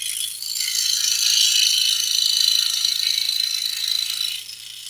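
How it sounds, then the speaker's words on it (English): A 22-inch Hegner scroll saw fitted with a number 5 flat-ended spiral blade cuts wood with a steady, high-pitched buzzing whine. The cut runs continuously for several seconds and then eases off near the end. "22-inch Hegner is the saw I'm using"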